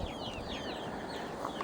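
Chickens raised for meat clucking in their enclosure on a farm in autumn, several short overlapping clucks above a soft outdoor background, close by and moderately loud.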